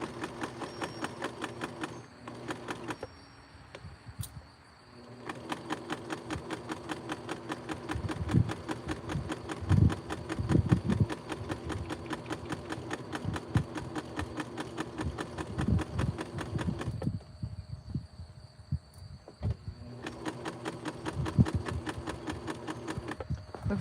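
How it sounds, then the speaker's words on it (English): A sewing machine stitches through denim while a jean jacket is upcycled, running in long steady bursts of rapid mechanical chatter with brief pauses between seams. "Looks like we're sewing into a peace sign over here"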